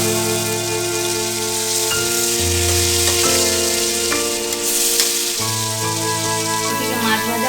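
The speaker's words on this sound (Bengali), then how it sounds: "দেখুন মাছগুলো একটু কড়া করে ভেজে নেব।" Tilapia fish frying in hot oil, a steady loud sizzle and crackle running throughout with continuous spitting bubbles, while a low musical tone plays along underneath.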